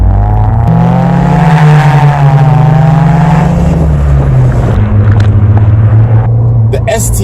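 A 2017 Subaru WRX with a CVT and STI mufflers gives a steady low engine and exhaust drone while driving, rising slightly in pitch and then settling, with a person talking over it throughout.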